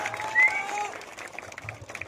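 Applause rises from a crowd at the prize-giving of a local football tournament in Sishadanga, Malda, with a loud whistle-like tone early on and clapping continuing beneath an announcer's voice.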